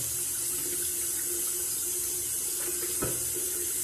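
Warm water runs steadily from a bathroom sink tap, a continuous close splashing hiss with a faint clunk partway through.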